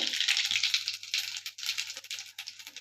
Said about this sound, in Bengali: দেখো তেলটা গরম হয়ে গেছে। এবার আমি সবার প্রথমে দিচ্ছি গোটা জিরে